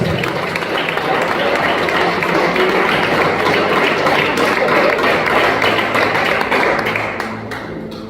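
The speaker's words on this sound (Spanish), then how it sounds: "Dan un aplauso al Rey de la Gloria." A church congregation applauds during a sermon, a dense, loud, steady wash of clapping that holds for several seconds and then eases off at the end.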